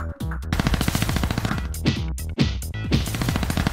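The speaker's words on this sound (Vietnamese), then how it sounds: "Robkick nổ súng." Gunfire sound effect in a Transformers toy battle between Optimus, Bumblebee, Dropkick and Shatter: dense, loud rapid bursts of machine-gun-like shots layered over a busy, driving soundtrack.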